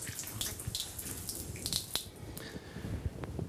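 Running water splashes over feet during Islamic ritual ablution (abdest), a steady close-up pour with small drips and splatters throughout, no voices.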